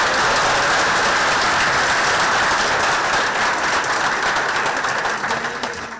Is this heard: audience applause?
yes